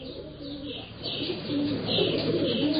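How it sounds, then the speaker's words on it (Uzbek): A flock of pigeons coos in soft, overlapping throaty murmurs, close and continuous, with occasional chirps mixed in. "Ondan o'zaro gugulashdi."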